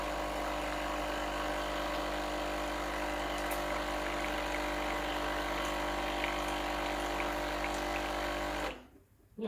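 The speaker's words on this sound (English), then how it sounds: "if you turn the dial away from you, it'll give you hot water straight from the boiler" A Breville Barista Express BES870 espresso machine dispenses hot water straight from its boiler, giving a steady, close pump hum and hiss that runs unbroken for about nine seconds before cutting off abruptly.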